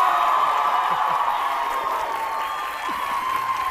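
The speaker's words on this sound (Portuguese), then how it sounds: "Vem com uma salva de palmas pro Miltinho" A crowd applauds and cheers for Miltinho, the sound dense and steady for several seconds with faint voices mixed into the clapping.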